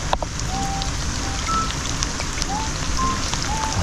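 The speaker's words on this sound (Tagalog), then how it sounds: "lumalakas na may ulan" Steady typhoon rain patters on a farm, a dense continuous hiss with a few faint chirps above it and no talking.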